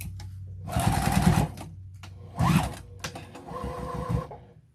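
A sewing machine stitches straight across a bag lining in several close bursts of steady mechanical whirring and needle chatter, separated by short pauses, with no talking over it.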